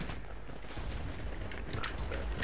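Gunfire in the video game BattleBit Remastered crackles as a dense, continuous wash of distant shots with scattered sharper pops throughout.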